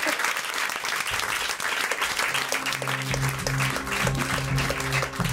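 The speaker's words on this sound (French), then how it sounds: "On t'applaudit, Malik." Studio audience on a French TV show breaks into sustained, dense applause, loud and continuous throughout with a low hum underneath.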